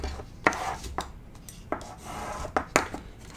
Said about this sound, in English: Let's go ahead and burnish this